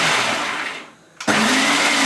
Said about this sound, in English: I'm getting out the Mixmaster thing so I can crush the pecans.